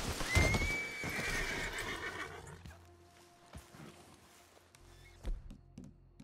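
A horse in Red Dead Redemption 2 gives a loud whinny at the start. Hooves clip-clop and thud as it moves about, and the sound tails off into a quiet ambience.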